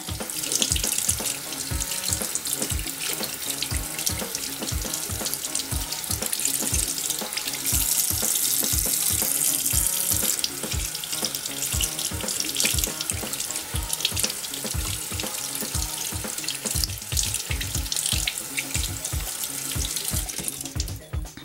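Makeup brushes rinsed under a running tap at a sink, a steady broadband rush of water with rhythmic splashy pulses as the brush is worked through the stream, close and continuous with no talking.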